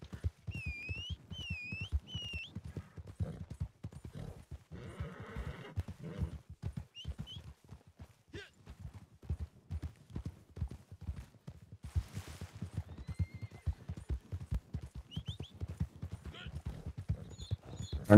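Hooves clip-clop steadily as a video game horse moves, with several sharp whinnies and neighs breaking in over the rhythmic hoofbeats.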